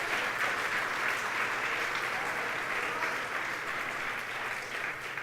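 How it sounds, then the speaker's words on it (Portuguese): Dense, sustained applause from a church congregation, a steady wash of many hands clapping together at even loudness throughout, with no individual voices standing out. "Então aplaude e glorifica ao Senhor pela tua palavra"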